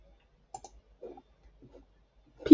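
Several sharp computer mouse clicks, spaced irregularly and faint, while a teacher demonstrates opening a PDF in a class notebook, followed by a louder clatter at the end.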